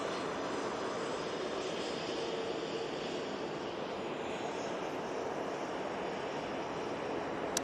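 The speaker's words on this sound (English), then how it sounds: "A lovely 737." Boeing 737 airliner at Manchester Airport, a steady broadband engine roar held at constant level throughout, heard from a distance with no voices.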